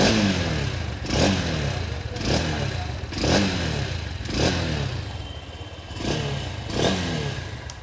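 A 2025 Honda NX200 Dual ABS motorcycle revs from idle: six short throttle blips at roughly one-second intervals, each engine and exhaust bark rising and falling back to a clattery idle, close and clear with no talk.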